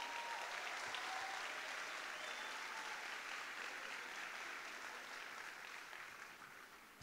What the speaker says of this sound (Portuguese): Dá uma salva de palmas para esses heróis.